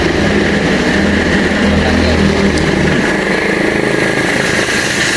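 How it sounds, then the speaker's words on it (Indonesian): Loud, constant roadside traffic noise dominated by a droning motorcycle engine, with a broad rushing hiss filling the background throughout. "maaf kali ini videonya agak berisik emang karena kita lagi di jalan ya"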